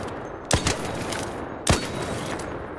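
Two loud, sharp shotgun-like blasts from ARC Raiders ring out about a second apart, each a single punchy report over a low, steady game background.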